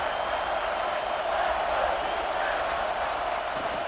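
A stadium crowd in the CFB 26 American football video game, during an Army vs. Navy matchup, roars in a steady, dense wash of cheering with no clear breaks.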